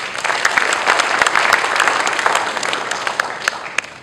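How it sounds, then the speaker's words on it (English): Colleagues at a corporate office gathering in Kuala Lumpur clap for an honoree, a loud, dense burst of applause with crisp individual claps poking through, lasting about four seconds. "Let's give Dwayne a big, big round of applause."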